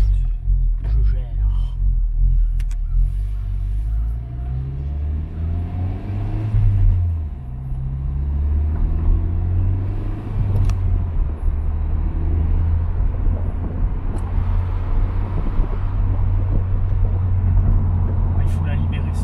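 A car engine rumbles steadily at idle and low revs, deep and close, with a few rising revs, while people talk over it almost the whole time.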